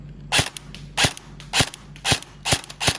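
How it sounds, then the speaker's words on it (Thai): An airsoft rifle, a modified E&C 641, fires BB shots in six sharp, loud, close cracks at a steady pace roughly half a second apart, with no voices. "ยิงเมื่อกี้มันเหิน เมื่อกี้มันมุดนะครับ"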